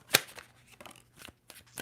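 A deck of tarot cards being shuffled by hand, a sharp riffle burst followed by several softer flicking and sliding bursts close up, with no talk.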